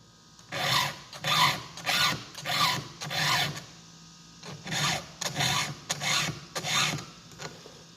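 A hand file sharpens chainsaw chain teeth in even back-and-forth strokes, about nine rasping passes in two groups with a short pause between, close and steady.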